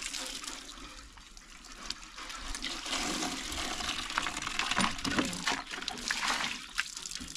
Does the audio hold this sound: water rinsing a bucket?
yes